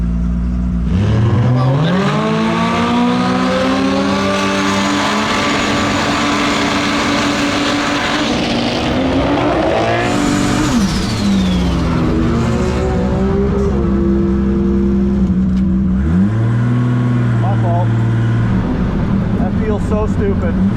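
A Toyota Supra engine revs hard after a burnout, repeatedly climbing and falling in pitch with loud, sustained roaring close by, while voices talk over parts of it.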